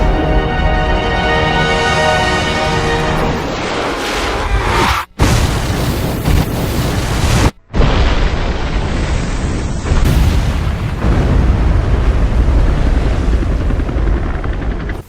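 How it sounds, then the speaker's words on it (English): RPG-7 rocket launcher in Resident Evil 5 firing and detonating: loud roaring blasts and booming explosions, broken by two abrupt moments of silence before the heavy rumble resumes. "that is it for the RPG-7 rocket launcher"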